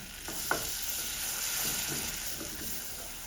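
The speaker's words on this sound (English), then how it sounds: "Now let's make a quick roux out of this." A roux of butter and olive oil sizzles steadily in a small pan while a small spoon scrapes and stirs through it, with a few soft clinks.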